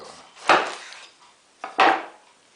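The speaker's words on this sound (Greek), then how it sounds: "παίρνουμε τον ανανά, κόβουμε μια φαρδιά φέτα του ανανά" A knife cuts through a wide slice of pineapple on a wooden board, giving two distinct close, sharp chopping strokes with a soft scraping tail after each, no talk.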